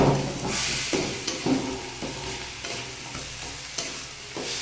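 Mixed leafy greens with whole dried chillies frying in a pan, a continuous hissing sizzle punctuated by repeated spatula scrapes and stirs, close and moderately loud.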